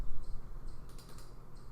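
Keys clack on a computer keyboard while a project name is typed in RStudio Cloud, a quick run of close, crisp clicks in a quiet room.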